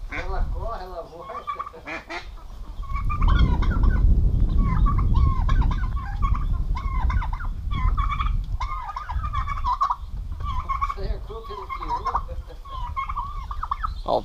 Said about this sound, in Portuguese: Uma discussãozinha aqui da roça, ó. A galinha de Angola e o galo.